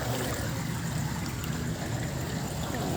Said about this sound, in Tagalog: Tuhod ko yung tubig.